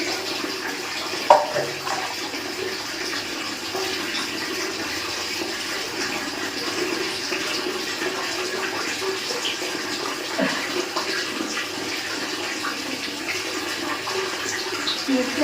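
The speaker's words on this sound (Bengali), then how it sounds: "মুখটা খুব ধুয়ে নেই" Tap water runs steadily while someone washes their face at a sink, a continuous close splashing flow that holds without a break for the whole stretch.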